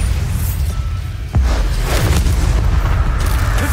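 A Bombarda explosion spell from the video game Hogwarts Legacy, landing as a sudden deep boom partway through and leaving a loud rumbling roar that holds to the end, with no voices.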